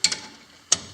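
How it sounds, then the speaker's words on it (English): Ratchet wrench loosening 14 mm front brake caliper bolts on a 2010 Kia Soul: two short bursts of rapid close clicks, one at the start and one near the end, with quiet between. "So I'm going to loosen up the caliper bolts, and that's a 14 millimeter"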